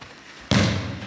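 A football is kicked by someone with eyes closed, giving a single sharp thump midway that rings briefly and fades, heard up close with no talking.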